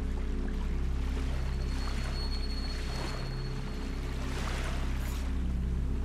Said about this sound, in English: I awoke to the sounds of waves washing on rock